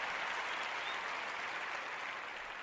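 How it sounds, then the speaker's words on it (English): Faint canned applause dropped into a sports talk podcast, a steady wash of crowd clapping and cheering that holds at an even level throughout, with no talking over it. "We better get some applause for that on Spreaker."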